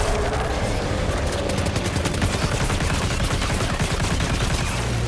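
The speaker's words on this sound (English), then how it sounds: "Just keep firing!" Sustained gunfire in the video game Death Stranding 2: On the Beach, a loud, dense stream of rapid shots and bursts continuing without pause for several seconds.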